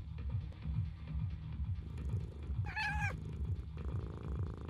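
A cat purrs in a low, rhythmic rumble close by, with one brief meow rising out of the purring partway through.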